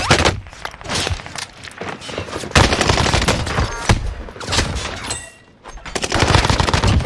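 Long, loud bursts of light machine gun fire in Call of Duty Warzone on Rebirth Island, rapid rattling volleys with short gaps, no talking over it.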